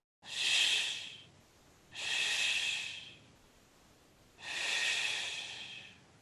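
Three slow, deliberate breaths during yoga practice, each a soft airy hiss lasting about a second, separated by quiet pauses and heard close up with no talking.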